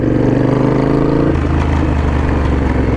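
A custom Triumph Bonneville Bobber motorcycle runs up close, with a loud, throbbing, low-pitched engine note that pulses in a steady rhythm and shifts pitch about halfway through, as if revved or moved through a gear.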